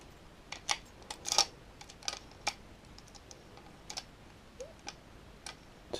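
A key turns in an Apecs LX5 cylinder lock, giving a series of crisp, close, irregular metallic clicks and ticks with quiet gaps between them.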